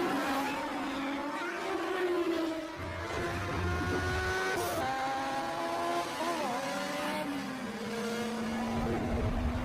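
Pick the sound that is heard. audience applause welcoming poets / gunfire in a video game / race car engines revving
race car engines revving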